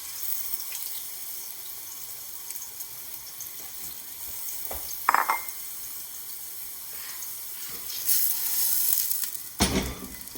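Dry spices added to a pot with onions, sizzling in hot oil with a steady low frying hiss, broken by a few brief louder crackles and stirring scrapes close by.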